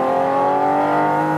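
A Porsche 718 Cayman GT4 RS's naturally aspirated engine howls steadily at high revs on a race track, a loud, continuous harmonic wail heard close up without any voices.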